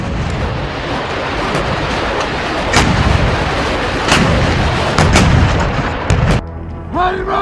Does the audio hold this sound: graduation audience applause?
no